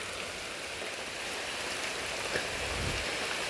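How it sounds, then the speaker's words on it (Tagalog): A steady downpour of heavy rain, broad constant hiss and patter of drops striking surfaces outdoors, sustained throughout with a faint low rumble near the end and no talking. "Grabe, malakas ang ulan dito guys."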